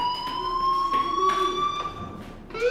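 Fire alarm blaring in the video game Life Is Strange, a steady high electronic tone with pulsing bursts that sounds loud and continuous the whole time, with no talking.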